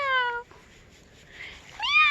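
A cat meows twice, close and clear, outdoors on a garden hike at the Montreal Garden in St. Vincent's rainforest; two drawn-out meows separated by a short quiet gap.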